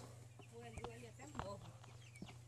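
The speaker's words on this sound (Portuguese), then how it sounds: "Aí tem as galinhas aqui." Chickens clucking in a farm coop on a rural smallholding, a few faint, scattered clucks and calls over quiet background noise.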